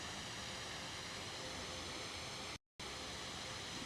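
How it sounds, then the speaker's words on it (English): Water gushes steadily from a pipe beneath rocks into a turtle pond in Prospect Park, New York City, a constant broadband rush, close and loud, with a brief cut to silence partway through. "there's literally a pipe underneath those rocks pushing out all that water"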